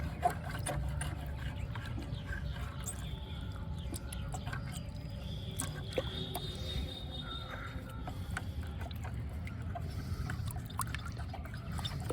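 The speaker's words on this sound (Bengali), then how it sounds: "ওই যে জলের বালতির মধ্যে বসিয়ে দেবো, যাতে মাটিটা ধুয়ে যায়।" Rose plant root ball settling into a bucket of water to wash off the soil, with soft gurgling, trickling and dribbling sounds, faint and close, under a steady low background.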